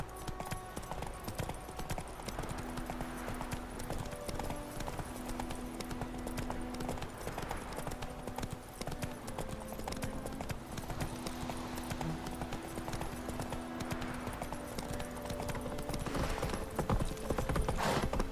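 A horse gallops in The Witcher 3 video game, its rhythmic clip-clop hoofbeats running continuously beneath a soft game soundscape, with no voices.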